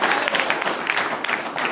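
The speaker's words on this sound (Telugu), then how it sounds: "ఒక్కసారి అబ్బాయిలు మీకు మీరు చప్పట్లు కొట్టుకోండి బిడ్డ." Schoolboys at a village chess board distribution in Koukuntla clap for themselves, a loud, close burst of dense hand clapping that keeps going through the whole moment.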